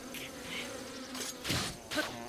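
Buzzing bees in Breath of the Wild, a steady insect drone with brief louder swells of game sound effects and no talking.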